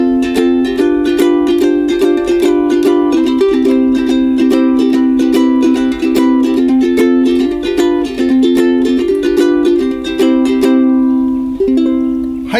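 A nylon-strung ukulele plays a continuous strummed and plucked passage with a mild, soft, thick tone, steady and close with no talking.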